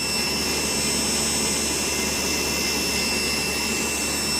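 Electric motor of a 1975 Vanguard Sebring Citicar runs continuously on a test, a steady close whirring drone with a high whine and brush hiss, unchanging throughout.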